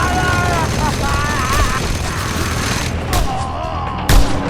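In the video game Just Cause 2, a mounted gun fires in bursts of rattling shots, with a few heavier thumps near the end, mixed under game voices.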